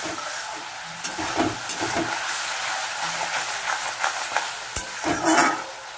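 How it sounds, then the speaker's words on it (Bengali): Katla fish sautéing with onions and salt in a pan, a quiet steady sizzle with intermittent stirring scrapes and clinks, no one talking. "এটা দিয়ে একটু ভালো করে কষতে হবে।"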